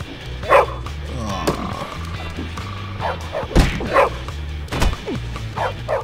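A dog in the video game Bully barks in sharp repeated bursts, several loud close barks spaced across the scene over background game music and thumps.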